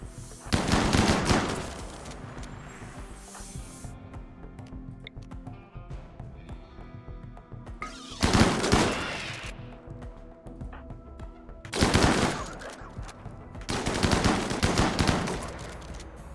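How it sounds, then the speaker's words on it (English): Repeated bursts of gunfire from firing lines in the video game RimWorld, loud volleys at about one, eight, twelve and fourteen seconds over a steady game background, with no talking. "These are some actual firing lines, man. We have too many guns."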